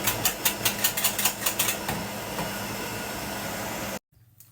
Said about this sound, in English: Give that a whisk.